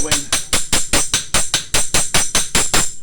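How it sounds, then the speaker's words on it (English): A knife blade is struck on an anvil in a run of about fourteen sharp, evenly spaced metallic blows, loud and close, with nothing else heard. "if you hold it and you're sort of hitting the blade where it's not on the anvil, you can feel it through the end"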